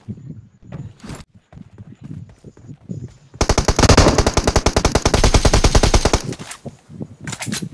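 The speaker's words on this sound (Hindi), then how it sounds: "machine gun" A machine gun fires in PUBG Mobile, a rapid sustained burst lasting about three seconds, preceded by lighter footsteps and scattered clicks.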